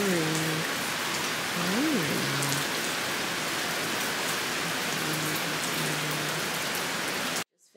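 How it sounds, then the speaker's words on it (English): Steady rain falls in Bali, a dense, even hiss of drops on surfaces that continues without break, with faint voices underneath before it cuts off abruptly at the end. "It started raining"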